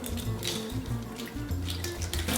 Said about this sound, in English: I'm putting cold water on the eggs that I just boiled so I can bring their temperature down